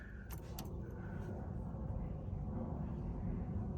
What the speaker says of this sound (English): And I turn the key.